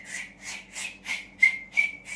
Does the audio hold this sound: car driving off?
no